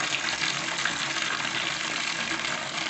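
Tap water runs steadily onto a foaming product in a container, a continuous close rushing splash with no talking over it.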